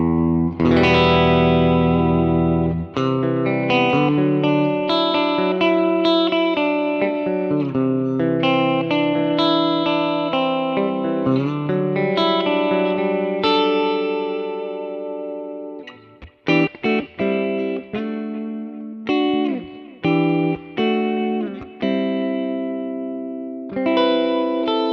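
Electric guitar played through a 1964 Vox AC10 Twin amp profile on a Kemper with the Bright switch at 2, ringing sustained chords and arpeggios with a crisp, airy top end, loud and close, breaking into choppier strummed stabs near the end.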